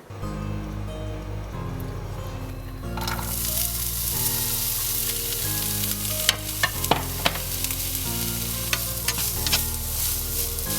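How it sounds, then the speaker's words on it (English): Steady sizzling of onions browning in a tablespoon of oil in a frying pan, with stirring scrapes and occasional clinks over a background of music. "brown our onions in a tablespoon of oil on the frying pan"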